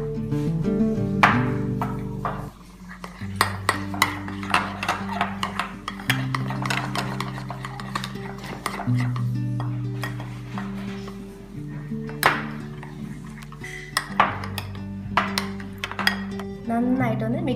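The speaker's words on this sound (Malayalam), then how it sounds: "നന്നായിട്ടൊന്ന് മിക്സ് ചെയ്ത് കൊടുക്കാം." Whipped cream, milk and condensed milk are stirred in a bowl for pista pudding, with repeated clinks and scrapes of a utensil against the dish and a voice speaking throughout.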